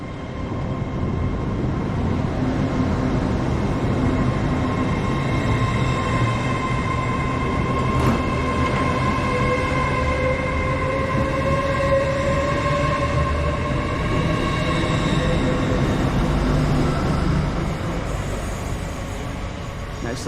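A TransPennine Express train rolls steadily through Preston station with a continuous rumble and a faint rising wheel whine, heard from the platform for about twenty seconds.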